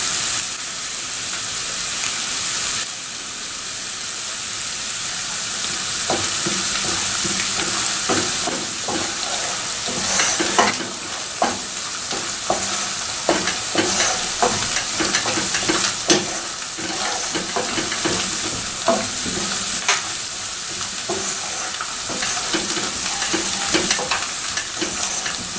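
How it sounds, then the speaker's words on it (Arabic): Carrots for a carrot salad sizzle in a hot pan while being stirred, a continuous loud frying hiss broken by repeated scraping and clattering strokes throughout, close up, with no talking. "كتقلى."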